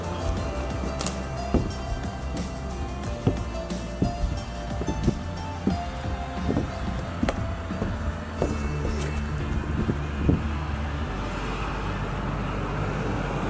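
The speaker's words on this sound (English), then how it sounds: "Mad traffic here." Steady roadway traffic rumbles past near an abandoned theme park, a continuous low wash of passing cars with intermittent knocks and thumps layered on top, no talking.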